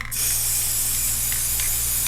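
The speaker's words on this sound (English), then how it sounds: "Take your spray paint," Dark green spray paint hisses from an aerosol can onto a tumbler in one loud, steady burst lasting about two seconds, close up and alone.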